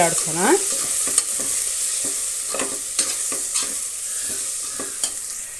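Biryani powder and garam masala are stirred in a hot pan for chicken biryani, giving a continuous loud sizzle broken by regular scraping strokes of a spoon across the pan.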